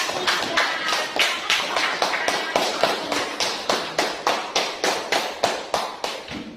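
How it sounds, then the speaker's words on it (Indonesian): A classroom of students claps for a group in a rhythmic burst of roughly twenty evenly spaced, sharp claps, loud and close, with faint chatter underneath. "Oke, tepuk tangan untuk kelompok 3."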